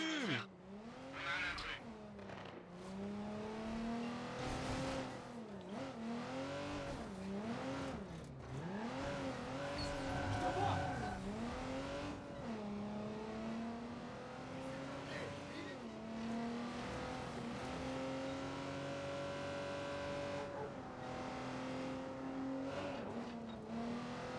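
A car driven in the Watch Dogs 2 video game, its engine revving loud and near with pitch repeatedly climbing and dropping through gear changes, and occasional tire noise.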